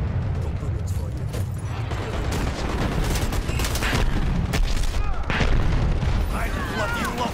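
Artillery fire support lands in a multiplayer shooter, a continuous barrage of booming explosions and crackling blasts piling up close and loud, with voices talking over the din.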